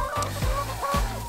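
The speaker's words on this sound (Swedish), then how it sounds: "Hönsen går här inne och sprätter i halmen." Free-range laying hens cluck in a greenhouse tunnel with straw underfoot, a few short close clucks and squawks rising over a steady indoor hum, with no voices.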